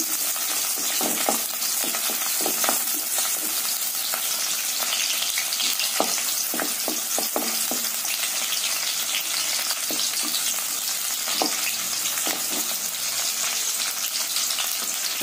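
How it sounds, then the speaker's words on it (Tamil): Onions sautéing in hot oil for a mint chicken gravy, with a steady broadband sizzle throughout and repeated soft scraping knocks of stirring at irregular intervals, close and fairly loud, with no talking. "வெங்காயத்தை நல்லா வதக்கிக்கலாம்."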